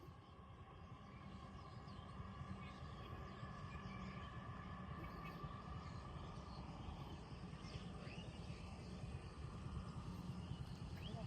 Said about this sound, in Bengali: এই মেট্রো যেতেছে